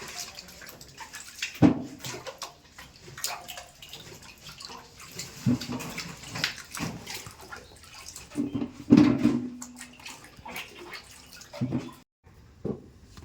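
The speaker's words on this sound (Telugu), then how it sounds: "1 అవర్ తర్వాత కాయలను అయితే కడుగుతున్నాం" Water sloshes and splashes in bursts as raw mangoes, soaked an hour, are rubbed and turned in a basin, with drips and small knocks between.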